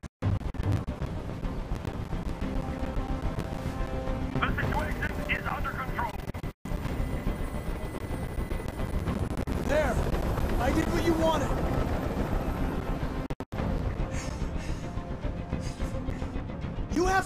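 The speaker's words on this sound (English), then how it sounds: "I can't stand that noise anymore. Tell that helicopter to get out of here." Steady rotor drone of a helicopter in Detroit: Become Human, a constant loud whir running almost unbroken beneath tense spoken dialogue, with brief cuts in the noise.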